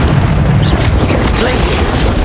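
Confringo spell explosion from combat in the video game Hogwarts Legacy, a loud, dense booming blast that fills the short moment with rumbling noise.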